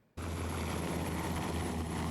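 A military helicopter in an army evacuation exercise starts abruptly and then holds a loud, steady rotor and engine roar with a thin high whine on top, close and continuous throughout.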